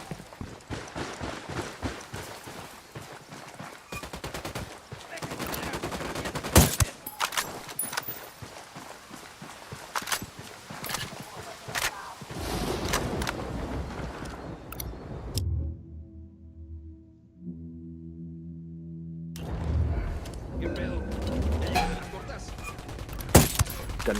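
Rapid gunfire bursts and single shots in the video game Ghost Recon Wildlands, loud and close, with a brief lull of low rumbling before the shooting resumes.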